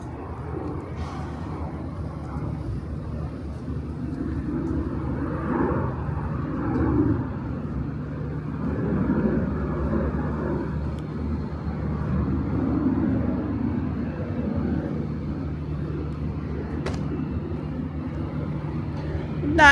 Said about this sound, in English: those are planes taking off, not landing